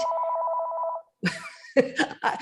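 A telephone ringing during a podcast recording: a close, loud trilling ring burst lasting about a second, then it stops and people talk.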